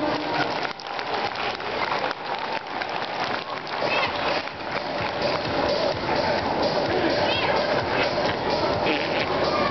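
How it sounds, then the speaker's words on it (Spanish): A children's clown-show party audience applauds, a dense sustained clatter of many clapping hands with crowd noise mixed in, steady and fairly loud from start to finish. "Un aplauso para ellos, por favor."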